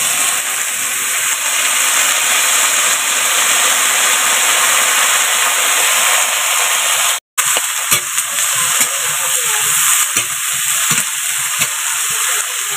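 Washed eggplant hitting hot oil tempered with black cumin (kalo jeera) and dried chili, a loud, steady sizzling hiss that runs continuously, broken only by a brief pause partway through, with no talking.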